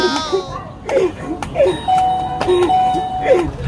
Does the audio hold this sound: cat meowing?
no